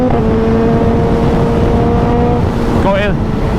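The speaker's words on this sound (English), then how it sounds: "There's a car coming." A car approaches and passes on a road near Glasgow or Oban, its engine swelling briefly near the end over a constant loud wind and motorcycle drone.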